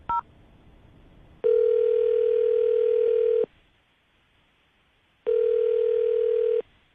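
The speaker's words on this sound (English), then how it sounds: "we're going to call him, see if we can get him on the phone" A telephone call being placed: a short beep, then two long steady ringing tones separated by a pause of silence, loud and clean.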